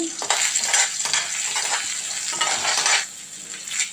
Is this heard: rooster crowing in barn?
no